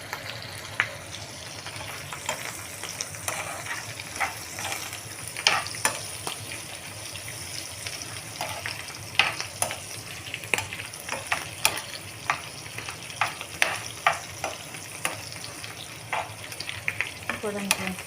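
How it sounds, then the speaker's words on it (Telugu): Dried fish sizzles and crackles steadily in a little oil in a home kitchen pan, with frequent small pops and spits over a continuous soft hiss, fairly quiet and close. "నేనైతే కొద్దిగా నూనె వేసి నూనెలో వేయించుకున్నాను"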